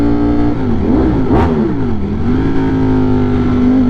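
A Ducati motorcycle engine blips and revs up and back down once, then settles into a steady, loud, throaty idle heard from close by.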